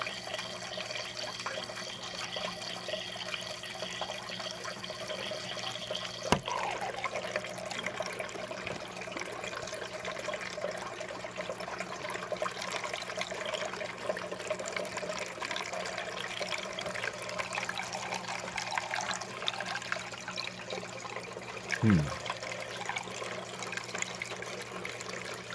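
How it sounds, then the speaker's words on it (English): Water from a tap runs steadily as a soft, continuous rush, fairly close, with a faint click and a brief squeak partway through. "I need to turn up the water a little."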